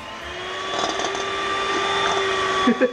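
A handheld electric mixer whips eggs into a fluffy white foam for an oil-free fried egg, giving a steady whirring motor tone throughout with a few faint clatters near the end.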